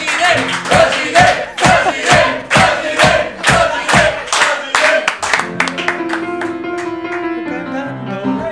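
A studio audience claps in steady rhythmic bursts and joins a loud chant for a president, then the clapping thins into music with voices over it.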